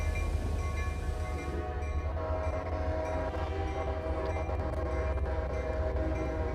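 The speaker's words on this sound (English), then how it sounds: "Currently in the middle of the Parade of Power. We've got locomotives from everywhere." Locomotives rumble past in a Parade of Power at Spencer, with a steady loud low engine drone and a sustained train horn blaring throughout, no talking.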